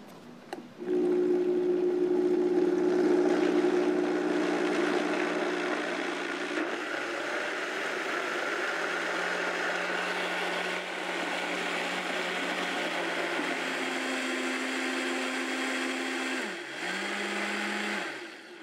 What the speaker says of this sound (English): We're going to get this blended up.